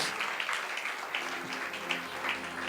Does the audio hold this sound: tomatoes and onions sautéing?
no